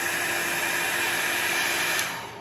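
A hair dryer runs steadily to dry alcohol ink painted on the back of glossy photo paper, with a constant close airflow roar that dips slightly near the end.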